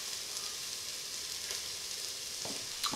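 Onions frying in an Instant Pot give a soft, steady sizzle throughout, fairly quiet, with a few brief clicks of stirring toward the end and no talking.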